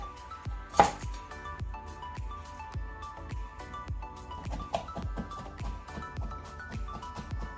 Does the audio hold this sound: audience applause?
no